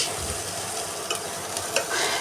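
Drumstick (moringa) leaves fry and sizzle in a pan for a leaf mash recipe, a steady hiss broken by a few light scraping stirs, close and with no talk.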